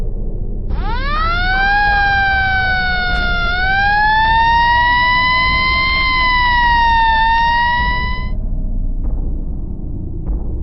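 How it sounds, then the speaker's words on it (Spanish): An ambulance siren wails in a long rising and falling sweep, loud and close over road rumble, then cuts off and leaves traffic noise. "Momentos después, es trasladado a una ambulancia."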